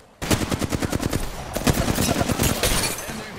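Rapid bursts of automatic gunfire in Apex Legends ring out close and loud after a brief silent start, firing steadily with short pauses for about three seconds.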